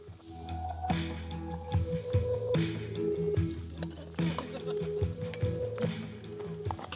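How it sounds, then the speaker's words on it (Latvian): Boiling water is poured into a freeze-dried meal pouch, giving close wet squelching and dripping with crinkly pouch handling and uneven bursts of liquid, while a voice speaks intermittently over it. "līdz atzīmētajai vietai mēs ielējam karstu verdošu ūdeni"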